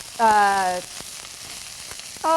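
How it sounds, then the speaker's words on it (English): Brussels sprouts sauté in a pan with a soft, steady sizzle and light clicks, interrupted twice by a loud, high tonal whine that slides slightly downward. "we're going to let this saute for about"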